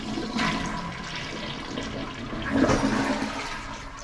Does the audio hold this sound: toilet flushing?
yes